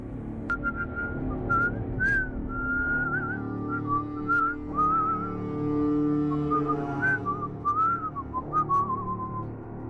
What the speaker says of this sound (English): I heard the whistling.